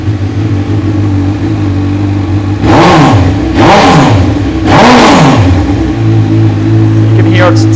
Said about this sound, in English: I'll just fire it up for you there, just to give you a listen to the exhaust